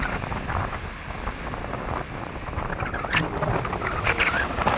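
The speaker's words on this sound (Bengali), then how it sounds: "সমুদ্রের ঢেউ দেখুন," Arabian Sea waves wash steadily onto a beach, a continuous rushing surf mixed with gusting wind buffeting the microphone, fairly faint and without speech.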